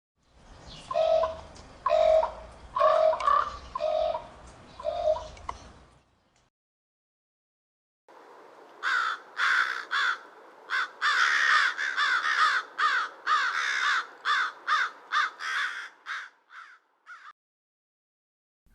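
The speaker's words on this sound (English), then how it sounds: "When distinguishing the calls of the common raven from the American crow, note the pitch and complexity of the sound" A common raven gives a run of throaty croaks, followed after a pause by a longer, quicker sequence of harsh calls. The calls are clear and close against a quiet background, with no speech.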